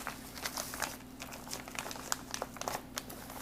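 A razor knife slices open an Eversafe MRE meal pouch, giving soft, close crinkling and crackling of plastic packaging in quick irregular bursts over a low background hum.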